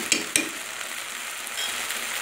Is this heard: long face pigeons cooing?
no